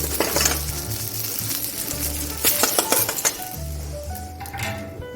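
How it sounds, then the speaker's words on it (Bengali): Fried eggplant pieces are lifted out of hot mustard oil in a pan, with soft sizzling under clinks and scrapes of a utensil against the pan, fairly quiet and close. "বেগুন আমার সব ভাজা হয়ে গেছে এবারে আমি বেগুনগুলো তুলে নেব"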